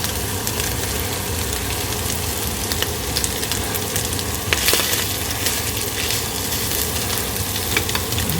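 Bolognese meat sauce of pork and another meat browning in a pan, giving a steady, loud, dense sizzle and crackle that continues unbroken, with occasional scrapes and pops and no voices.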